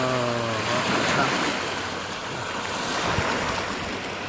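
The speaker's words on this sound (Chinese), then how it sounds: "这个海浪声多好听啊！" Ocean waves roll in a steady, continuous wash of surf with some wind noise, loud and unbroken for the whole stretch, with a brief low hum near the start.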